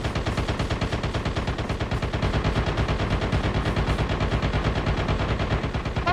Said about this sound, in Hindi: भाई कितनी फायरिंग हो रही है यहाँ पर